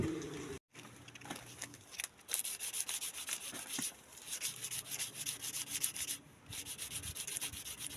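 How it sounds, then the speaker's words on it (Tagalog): Steady rhythmic rasping of sanding across a hard metal edge, continuous strokes with a few brief pauses, close and fairly loud. "lilihain lang natin mga kantir para matanggal yung mga gasgas"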